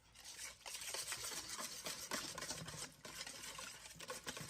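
Faint scraping and stirring as a whisk breaks up cranberry sauce in a bowl while preparing slow-cooker chili meatballs, a soft continuous rasping with uneven strokes and no voices.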